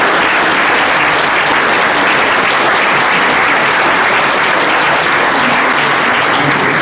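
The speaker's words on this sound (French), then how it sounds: "vous pouvez les applaudir" Loud, dense applause from a hall audience at a mayor's 2024 New Year's greetings ceremony, honoring young citizenship ambassadors. The clapping is sustained and even from start to finish, with no other sound standing out.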